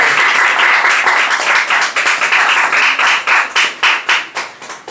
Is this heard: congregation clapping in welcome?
yes